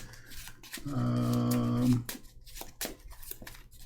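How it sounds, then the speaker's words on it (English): A deck of Marvel Champions cards riffle-shuffled close by, a dense papery flutter lasting about a second, followed by softer card handling and taps. "So let me shuffle this up here"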